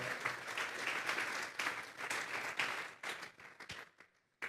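A church congregation claps as an offering of praise, a burst of applause with some rhythmic clapping that gradually thins out into a few scattered claps near the end.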